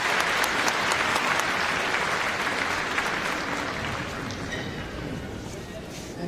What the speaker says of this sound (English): there'll be the customary generous round of applause as well from this Crufts crowd